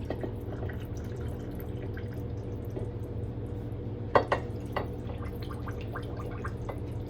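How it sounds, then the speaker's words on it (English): Small bubbles pop faintly inside a canning jar of burrito filling, scattered soft clicks and drips with a slightly louder cluster midway, alone over a low steady hum. "listen to those bubbles pop up"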